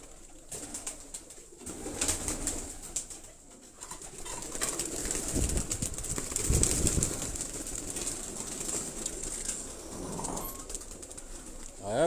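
Pigeons in a rooftop loft with cages coo softly in low repeated murmurs, with occasional wing flutters and faint background voices.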